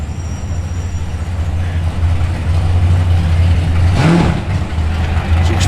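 An HSV Senator V8 rumbles loudly at close range with a deep steady drone. It swells into a sharp rev partway through, then settles back into a heavy idle, with no one talking over it.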